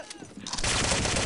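Loud, dense gunfire from the World War II shooter Day of Defeat erupts abruptly and continues as a sustained burst after a brief quieter moment.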